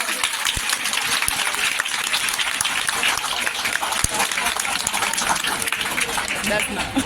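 Dense, steady applause from an audience at a school farewell program in 2024, filling the whole stretch at even loudness, with voices mixed in underneath.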